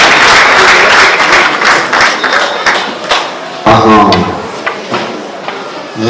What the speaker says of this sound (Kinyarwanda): Muryango mugari mundu n'amashyi menshi cyane by'aba basore rwose